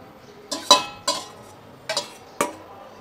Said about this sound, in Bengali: সয়াবড়িগুলো দিয়ে একটু নেড়ে নেবো